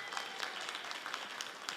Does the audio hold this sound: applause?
yes